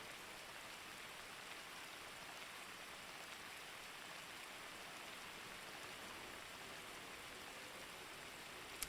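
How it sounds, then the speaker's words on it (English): Rain falls in a video game as a faint, even wash of hiss, steady throughout with no voices. "It's been raining."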